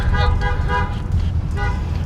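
Car horns honking on a busy Beijing street in the evening, repeated toots sounding several times over steady traffic rumble and wind.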